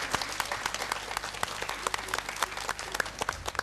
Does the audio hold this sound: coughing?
no